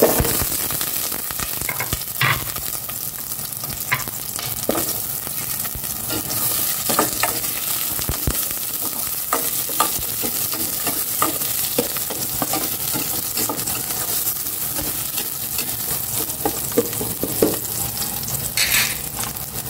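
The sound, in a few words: onions frying in a pan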